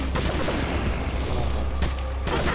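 Loud, dense bursts of shotgun fire in Resident Evil 4 fill the whole stretch, booming blasts with brief breaks between volleys.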